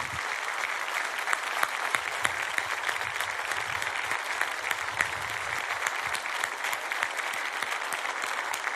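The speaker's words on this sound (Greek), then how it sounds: "Πολύ δυνατό χειροκρότημα" Sustained, dense applause from a large television studio audience, steady and loud throughout with a few sharper claps standing out.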